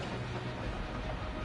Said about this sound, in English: let's put this train through her paces